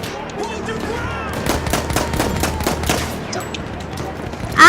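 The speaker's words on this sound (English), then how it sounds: "that was a mortar which hit right in front of my face and almost killed me" In a World War I shooter game, rapid bursts of gunfire crackle and rattle in a dense volley, followed by a sudden loud mortar blast at the end.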